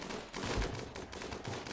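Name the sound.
turret gunfire in the video game Rimworld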